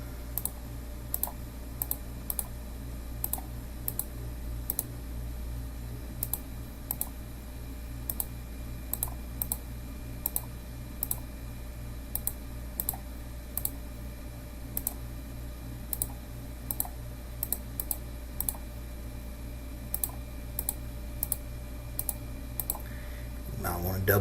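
Keys pressed one at a time on a calculator while entering numbers into a 3x4 matrix in its matrix editor, a steady series of light, close clicks with short gaps, over a low constant background hum.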